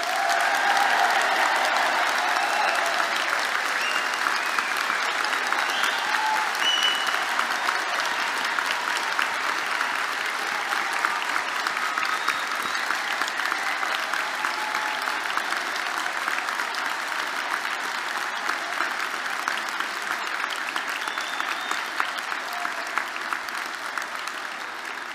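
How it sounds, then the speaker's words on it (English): A large audience at a university degree ceremony in Belfast's Waterfront Hall gives the graduates sustained, loud, steady applause that fills the hall for the whole stretch, with no voices over it. "let's start today's ceremony by giving our amazing graduates a huge round of applause"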